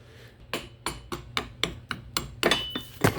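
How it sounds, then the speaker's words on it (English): A hammer strikes metal about ten times in a steady rhythm, each blow sharp and ringing, with the last few hits louder and closer together. "just take whatever size hammer you have and just whack it in"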